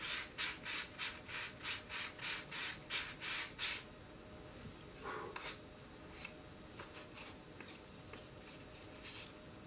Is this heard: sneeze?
no